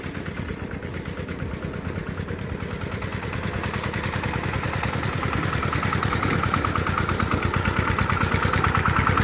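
A power tiller engine runs continuously in a paddy field during rice season, a steady rapid chugging throb that grows slightly louder and closer, with no talk.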